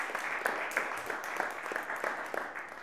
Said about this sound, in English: And a second round of applause for the Effect team and Amplify for hosting this wonderful event.